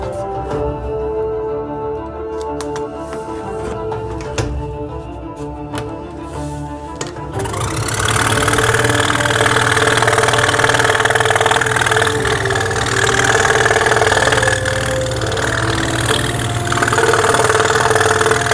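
A scroll saw runs with a steady mechanical hum and rattle, then bites into EVA foam partway through, turning louder with a dense, rough cutting buzz that persists to the end.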